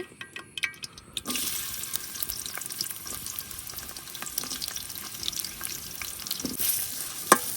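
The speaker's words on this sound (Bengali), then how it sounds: "এখন দিয়ে দেম পেঁয়াজ কুচি," Chopped onions tipped into a hot pan after ginger-garlic paste, a sudden loud burst of sizzling that settles into a continuous crackling fry with occasional stirring clicks, quiet before the onions go in, no voices.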